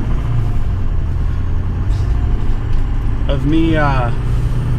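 A Ford 6.0 Powerstroke diesel truck engine runs steadily at a low, even idle close by, with someone talking over it.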